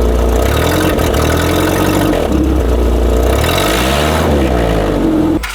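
An engine revving close up, a loud continuous roar whose pitch rises and falls through several rev swings, steady and alone without talk.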